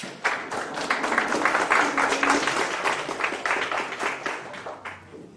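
Applause from a congress audience at a Bolivian university event: many hands clapping in a lively, slightly uneven rhythm, close and fairly loud, swelling early then gradually thinning toward the end.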